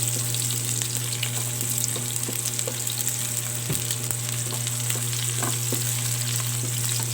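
Garlic and sliced onion fry in a pan for pork mechado, giving a dense, continuous close-up sizzle with a steady crackle, occasional stirring scrapes, and no talking.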